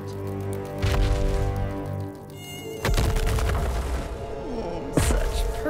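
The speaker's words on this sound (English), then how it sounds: "Buzz around that kid up there." High, whining buzzes of cartoon insects swarm through the scene, thick and continuous, mixed with booming and cracking impacts and a short stretch of shimmering effect.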